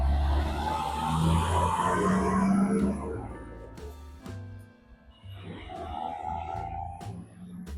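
Road traffic circles a roundabout on the way into Georgetown, trucks and cars rumbling past nearby with engine roar swelling and fading, a tonal whine of a passing heavy vehicle, then another vehicle approaching.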